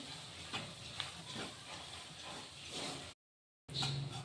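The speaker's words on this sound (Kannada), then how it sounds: "ಇದನ್ನ ಸಹ ಚೆನ್ನಾಗಿ ಹುರ್ಕೊಳ್ಳೋಣ ತುಪ್ಪದಲ್ಲಿ" Wheat flour roasting in ghee in a pan for halwa, a soft continuous hiss and sizzle with faint stirring scrapes, broken by a short gap of silence before resuming.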